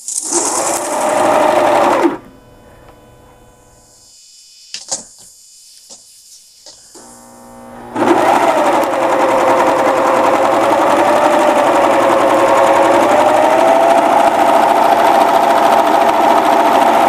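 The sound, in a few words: serger sewing machine stitching t-shirt shoulder seams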